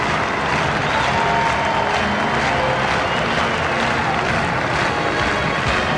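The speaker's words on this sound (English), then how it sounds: "Former President Jimmy Carter, taking his bow, soaking up the applause" Loud, sustained crowd applause at the 1988 Democratic National Convention as former President Jimmy Carter takes his bow, a dense roaring wash of clapping and cheering from a huge arena audience.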